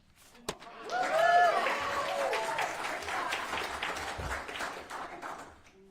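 A crowd at an outdoor school voucher protest applauds, a sustained wash of clapping and some cheers that rises quickly and holds for several seconds before tapering off.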